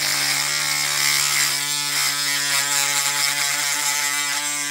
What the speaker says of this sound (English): you gotta make sure with the Dremel, that's kind of why I'm going with this absolutely pointed one